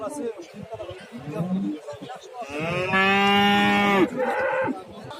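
Cattle at an Özgön livestock market give a long, loud moo, with a shorter call right after, while people talk and bustle nearby.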